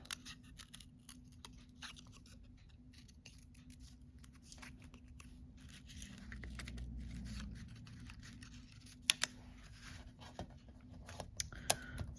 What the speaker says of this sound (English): I cut the leaf out.